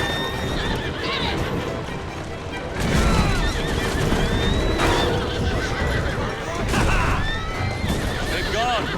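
Horse-drawn carriages gallop in Assassin's Creed Syndicate, with steady pounding hooves, rolling wheels and repeated horse whinnies, loud and continuous, plus bursts of gunfire and voices talking over it.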